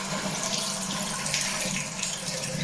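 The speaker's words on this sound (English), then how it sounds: "We finally have water." Water runs steadily from a newly installed IKEA bathroom sink faucet, a continuous close splashing rush with no talking.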